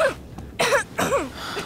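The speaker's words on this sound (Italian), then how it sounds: "That cough doesn't sound too good." A young character in the video game Life is Strange 2 gives a few short, raspy coughs with a throat-clearing quality. The coughs are close and distinct, separated by brief gaps, and no one speaks.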